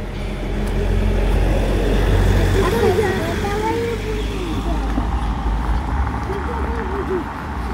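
A car approaching from behind on a road in winter, a low steady engine and tire rumble that swells gradually and stays close, with a voice speaking over it.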